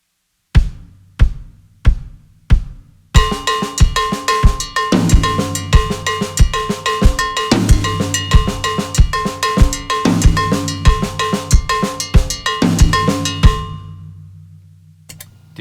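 Slowed Mozambique groove on a drum kit: steady cowbell pattern with snare hits and a rack tom accent on the three, opening with four spaced count-in clicks before the full loud groove runs alone to a ringing finish.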